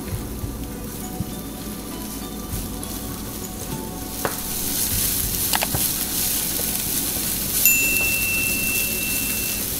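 Onion frying in hot oil in a pan for a cream salsa, a bright continuous sizzle that swells louder midway, with occasional utensil taps and no talking.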